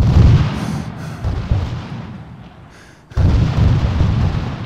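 Heavy artillery fire and explosions in the Arma 3 war game, a dense rumbling barrage of booms that eases off and briefly drops out before roaring back loud and continuous.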